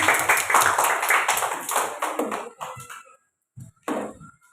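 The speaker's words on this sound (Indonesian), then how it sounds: "Tepuk tangan untuk kelompok 3." Applause for a student group in a classroom: dense clapping and tapping for about two seconds, then thinning into a few scattered claps that stop briefly before a last short burst.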